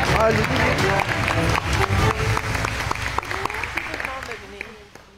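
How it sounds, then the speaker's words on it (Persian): Audience applause, a burst of dense clapping that fades out over a few seconds, with people talking over it. "بگیم تشویقشون کن"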